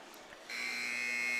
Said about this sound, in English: The buzzer sounds. The first period has come to an end.